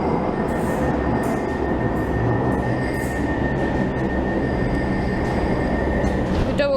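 A Manchester Metrolink tram on the route to Eccles via MediaCityUK pulls away with a continuous heavy rumble, a thin steady wheel whine running above it and a brief squeal near the end.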